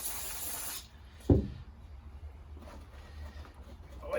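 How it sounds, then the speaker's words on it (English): One short aerosol burst of cleaner onto a rag during KTM motorcycle maintenance, close up, followed by a soft rubbing thump and then quiet handling noise. "spray the rag"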